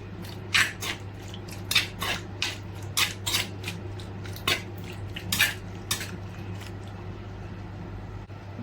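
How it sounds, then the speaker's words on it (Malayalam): Metal spoon clinks and scrapes against a bowl while raw prawns are stirred with chili powder and salt, a quick irregular rhythm of close clatters over a steady low hum, no voices. "നന്നായിട്ട് ഇളക്കി ചേർത്ത് കൊടുക്കാം."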